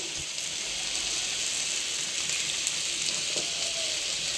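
Mackerel curry masala sizzles and fries steadily in a pan, a continuous bright hiss with soft crackle throughout, close and even, no talk.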